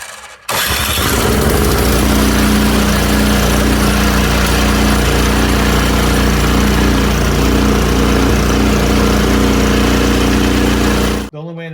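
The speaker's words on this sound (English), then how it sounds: "We'll put the choke on 3/4 or half because it seems like it doesn't want to start as much on the little choke." A PowerSmart snowblower's small gas engine starts abruptly and then runs loud and steady at a rough, even idle for about eleven seconds before cutting off.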